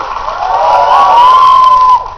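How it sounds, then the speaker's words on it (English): Men in a TV studio audience let out a loud, sustained cheer with a rising whoop, steady for about two seconds before cutting off sharply. "All the men give me a cheer."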